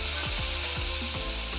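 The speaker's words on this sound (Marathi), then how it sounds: "टमाटा पण आपण छान परतून घेऊया. हे 2-3 मिनिट परतून घेऊया." Chopped tomato and onion sauté in a hot pan with a steady, even sizzle, and a few soft stirring scrapes cut through it, heard up close with no voices.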